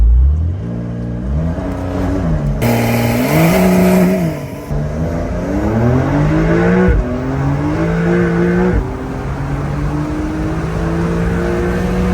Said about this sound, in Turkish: Şimdi sizi bu aracın sesiyle ve performansıyla baş başa bırakıyorum.